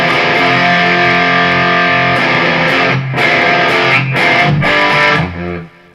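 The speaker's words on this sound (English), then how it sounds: "Now, in the crunch mode, the gain is roughly about halfway up, and I have this sound." A distorted electric guitar runs through the crunch channel of a Boss Katana amp with the gain about halfway up. It is played as loud, close, sustained chords that ring out and cut off near the end.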